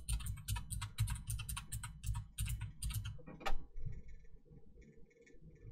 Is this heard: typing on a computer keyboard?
yes